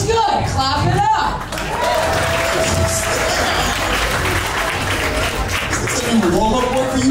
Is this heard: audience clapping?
yes